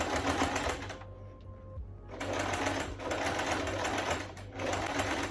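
Sewing machine zigzag stitching strips of fabric onto a thrifted blazer, close rapid needle chatter in several bursts, broken by a brief pause and short stops between runs.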